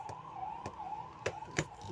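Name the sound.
police vehicle siren passing outside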